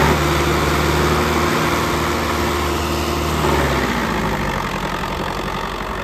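A four-cylinder Sonalika tractor engine runs steadily at close range, a loud, even diesel chug with a low throb that shifts slightly in pitch midway.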